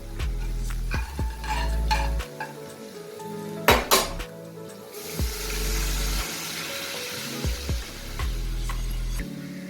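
Dal being poured into a pan of egg tadka and stirred, with utensil scrapes and clinks against the pan over a low sizzle and a steady background hum; no one talks.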